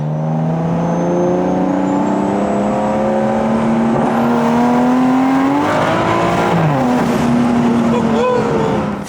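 A BMW F30 335i with a built N55 engine revs hard with anti-lag, a loud, continuous rising and falling engine tone close by, with pitch sweeps and a drop near the end.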